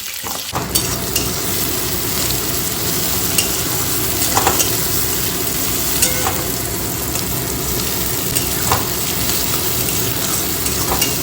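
Bengali curry sautéing in a pan makes a loud, continuous close-up sizzle with steady crackling and occasional sharper pops, left to cook alone without voices.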